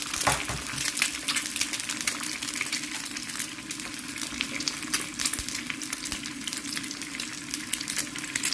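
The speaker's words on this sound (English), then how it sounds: "Crack 3 eggs into the pan. Make sure you have it on low heat." Three eggs cook in a pan on low heat, giving a steady crackling sizzle with scattered tiny pops and occasional stirring clinks throughout, with no talking.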